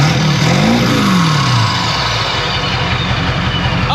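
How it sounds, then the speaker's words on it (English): A Ford 7.3L Powerstroke diesel on an extreme tune revs up and falls back in one rising and sinking sweep, then settles into a loud, close rumbling idle. "Might give it a few revs on extreme just to see if it smokes"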